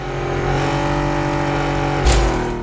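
A twin turbo car engine in the video game Super Street: The Game drones steadily, then briefly revs with a short airy burst near the end, loud and close.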